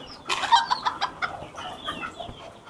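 A hen at a fancy poultry farm in Bangladesh clucks in a quick, close burst of sharp calls, then trails off into softer, scattered clucks.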